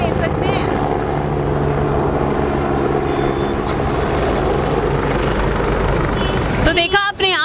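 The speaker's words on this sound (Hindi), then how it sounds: "देखिए हेलीकॉप्टर दिखाई दे रहा है" A helicopter flies over the mountain pilgrimage town of Badrinath with a loud, steady rotor and engine roar that stays close throughout, and a voice talks over it.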